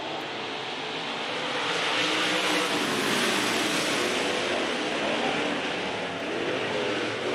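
A pack of modified race cars pulls away to start a heat race at a dirt oval: a broad, sustained engine roar that builds and holds, with engines revving together at a distance.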